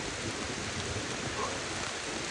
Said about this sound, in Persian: بچه این بارون رو ببین